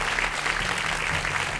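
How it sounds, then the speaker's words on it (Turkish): Studio audience applause for a contestant on a Turkish television quiz show, a steady dense wash of clapping that holds at an even level throughout with no talk over it. "Alkışlar Onur Bilber için"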